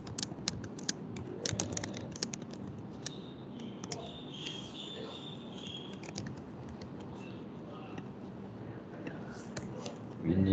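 Soft, rapid keystrokes on a computer keyboard during note-taking in a meeting, a quiet continuous patter of clicks with faint background murmur.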